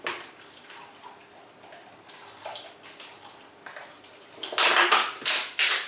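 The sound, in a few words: watering sown seeds in trays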